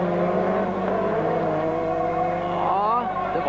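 A Ford Escort RS2000 T16 race car drives on the Lyngås circuit, its engine droning steadily nearby with a rising rev near the end, while a commentator talks over it.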